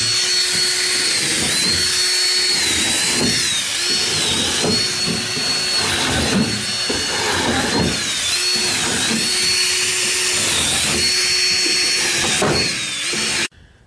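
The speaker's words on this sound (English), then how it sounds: "I'm just going to go ahead and pre-drill it" A power drill pre-drills a few spots in a scrap-wood board that will form the bottom of a goat feeder trough, its motor whining loud and close in repeated bursts with brief pauses between holes.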